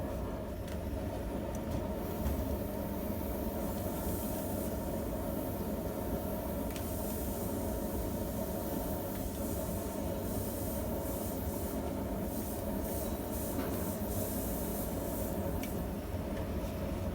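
A small gas forge that needs relining burns with its burner turned up to around 10 or 11 psi, giving a continuous, even roar with a hissing edge that is fairly faint and unbroken.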